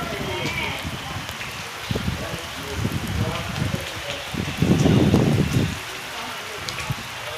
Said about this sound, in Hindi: ये देखें जी, बारिश शुरू हो चुकी है,